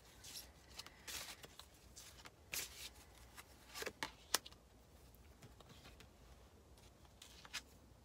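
A deck of soul's journey lesson cards being shuffled: soft, quiet papery riffles and flicks in several irregular bursts, with no voices.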